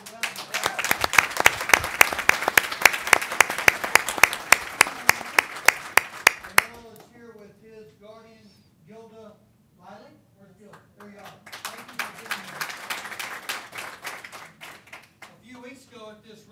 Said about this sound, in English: If I give Earl a round of applause